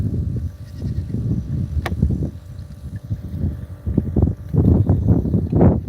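Sheep bleat a few times among farm animal noise and low rumbling, with louder bleats toward the end.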